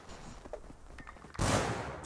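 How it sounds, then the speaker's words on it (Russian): Explosion in the video game Rust, a sudden loud broadband burst that follows quieter game sounds and sustains to the end of the clip. "Вот это был взрыв."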